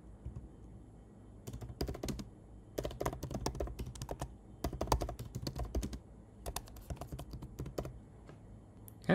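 Someone types a login email and password on a computer keyboard in brisk bursts of close, clicking keystrokes separated by short pauses, with no talking.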